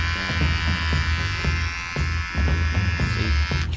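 A loud, steady electric buzz from a Vega T4 men's hair trimmer running continuously, with a few faint clicks and handling knocks underneath.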